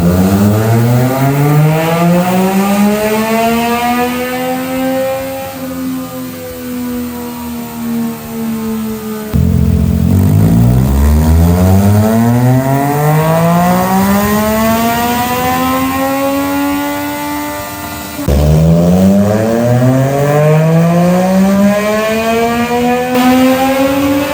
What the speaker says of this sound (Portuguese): Finalizamos o desenvolvimento e todos os testes aqui no dinamômetro da Daytona 660